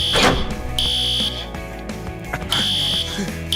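A building fire alarm blares loudly in long, repeated shrill electronic pulses, close and dominant over faint background noise.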